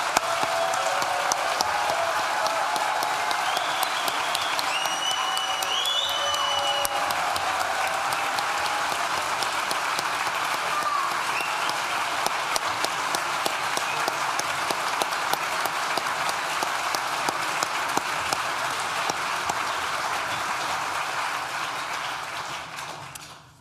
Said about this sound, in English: let's give them one last huge round of applause to send them on their way